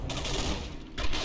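Sniper rifle fire in the video game Singularity: a loud, sharp burst, then a short lull and a second heavy crack, both close and punchy, with no talking.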